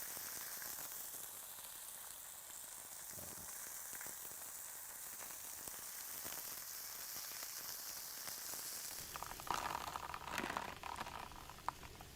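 Fish coated in ground green peppercorn and chilli paste fries with a couple of chillies in a pan, giving a soft, steady sizzle throughout that turns louder and more crackly toward the end.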